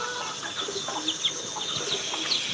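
Chickens cluck softly around a farm house yard as they peck at rice and paddy, with short chirps and clucks scattered through a steady outdoor background and no talking.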